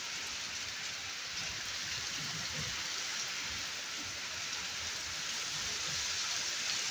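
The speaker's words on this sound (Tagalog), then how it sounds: "April 28 pero umuulan pa rin ng snow dito kaya hailstorm." Heavy rain pours steadily during an April hailstorm, a dense, even hiss of drops drumming on surfaces without a break. It is moderately loud and unchanging throughout, with no voices heard.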